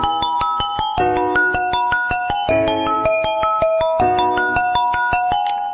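Xiaomi phone ringtone playing alone: a bright, repeating melodic phrase of clean synth tones with sharp plucked attacks, cycling in steady loops at a constant, moderately loud level with no talking.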